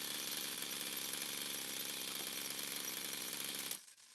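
A small OS 26 four-stroke nitro RC engine runs rich and loud, a steady buzzing drone up close that cuts off abruptly near the end.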